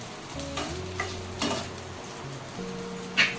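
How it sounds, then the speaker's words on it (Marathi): Onion being stirred while it fries with chillies in a pan, a steady close sizzle broken by a few scraping stirs and light clinks against the pan. "आता कांदा टाकायला लागले आता कांद्याला फिरवून देऊन घेते"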